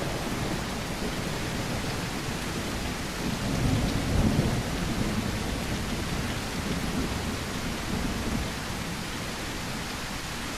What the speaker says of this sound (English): Do you guys even hear me over this rain?